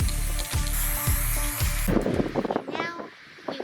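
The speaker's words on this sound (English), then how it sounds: "time to spray paint." Short bursts of hissing spray paint are applied to a sanded iPhone outdoors on a windy day, with repeated rhythmic pulses at first, then a looser, uneven hiss with wind and rattling at close range.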